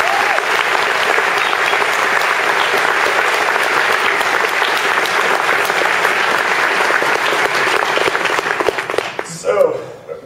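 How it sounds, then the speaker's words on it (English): Loud, sustained applause from a large conference crowd at the Mozilla Summit 2010, steady clapping for several seconds before it tapers off near the end. "a big round of applause for yourselves"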